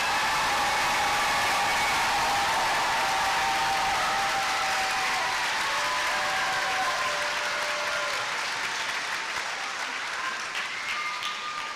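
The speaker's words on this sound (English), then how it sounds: "Let's give our graduates another round of applause." Commencement crowd at the University of Houston–Victoria giving graduates a long, continuous round of applause, a loud dense roar of many hands filling a large hall, with faint tonal background sound beneath it.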